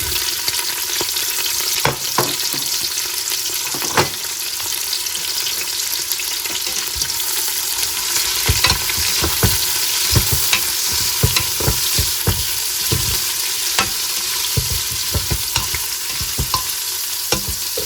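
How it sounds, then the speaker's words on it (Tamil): Onions sauté in oil with green chillies for mutton biryani, giving a continuous loud sizzle punctuated by scraping stirs and spatula knocks against the pan, with no talk. "இப்போ இங்கால வந்து வெங்காயம் வதங்கி கொண்டிருக்கு"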